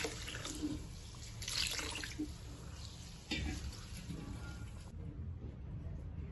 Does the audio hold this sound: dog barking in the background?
no